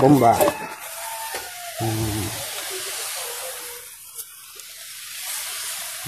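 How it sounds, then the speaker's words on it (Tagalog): Steady, soft hiss of a hand pump sprayer misting water over freshly sown pechay (bok choy) seeds, with a brief voice near the start. "Maganda guys na ganito yung gagamitin natin sa pag-i-spray."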